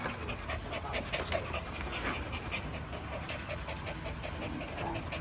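A small puppy pants in quick, steady, close breaths throughout, with faint hissy whimpers mixed in and a broad noisy wash behind it.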